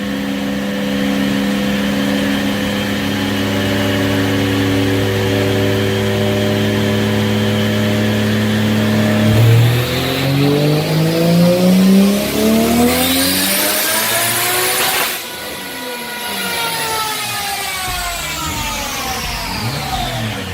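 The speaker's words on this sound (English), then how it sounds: "Here we go, dyno pull 2." A car engine on a dyno holds steady at first, then revs up hard through the gears in a loud rising pull before falling off and winding down, with the drivetrain whine sweeping up and down.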